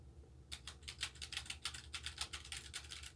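Crisp, rapid keystrokes on a Logitech PRO X 60 gaming keyboard with a light, bouncy press, a steady run of clicky taps starting after a brief pause, close and clear over a low hum.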